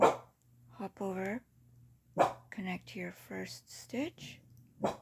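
A pet dog barks a few short times in a room during a crochet lesson, the barks mixed in with a woman's steady, close talk.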